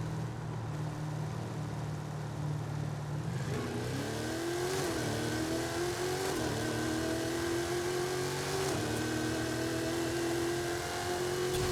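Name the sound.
Holden HQ Monaro V8 accelerating in roll race, Forza Horizon 5 video game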